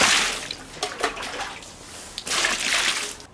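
Two long eggplants are washed under running water, producing close splashing and sloshing that swells and eases as the vegetables are turned in the stream.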